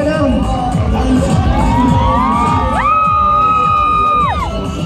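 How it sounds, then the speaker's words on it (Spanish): A festival crowd at a summer festival in Moniquirá shouts, whoops and cheers loudly, with children's voices rising in long excited yells over a dense, continuous roar. "El grupo que más haga bulla, el grupo que más grite"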